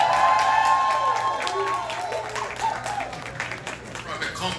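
Audience applause and cheering at a diaspora tribute event, a dense wash of clapping with a few whoops, loud at first and gradually thinning out.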